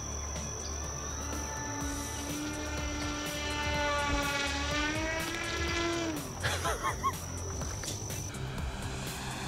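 An FMS F7F Tigercat 1700mm RC warbird plane hovers, its twin electric motors giving a steady high whine that rises and sweeps in pitch while holding at a close distance.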